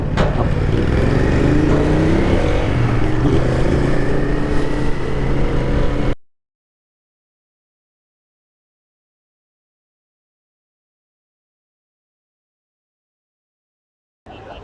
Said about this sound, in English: first step is to catch a ferry